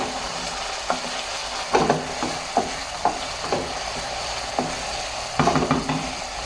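Garlic frying in a pan and being stirred: a continuous close sizzle broken by repeated scraping strokes of a utensil at irregular intervals, with no voices.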